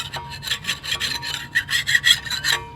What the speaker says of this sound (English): scrape the paint off as much as you can